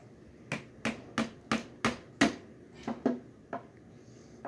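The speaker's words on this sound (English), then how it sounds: "Chisel this stuff off." A chisel knocking the husk and shell off a fresh coconut: about ten sharp, woody taps at an uneven pace, close and fairly loud, with no talking.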